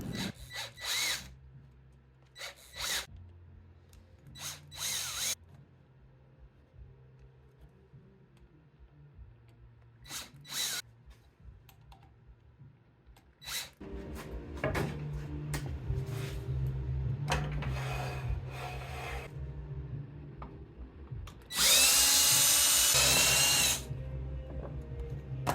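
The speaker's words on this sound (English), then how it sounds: "So I'll screw them into the plywood here" Cordless drill driving screws through wormhole clamps into plywood for a grain mill build, short bursts of whirring with pauses and clicks between, then a louder sustained high-pitched run near the end.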